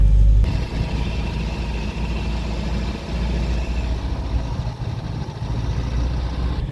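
A Saab 96 barn find's engine runs steadily after starting, a continuous low rumble that holds at a fairly even level throughout with no talking over it.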